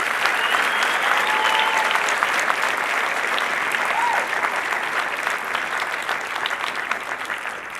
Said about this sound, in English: I want us to please give another round of applause to Dr.